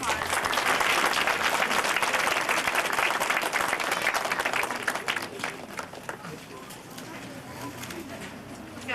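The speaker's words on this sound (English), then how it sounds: "And can we just give them a round of applause?" A round of applause from the audience at a PTA open house meeting, dense, steady clapping for several seconds that thins and fades toward the end.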